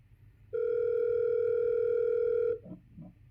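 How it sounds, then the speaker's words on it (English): A single steady electronic telephone tone sounds for about two seconds, clear and close, then cuts off followed by a brief soft clatter. "Oh my, the phone's ringing"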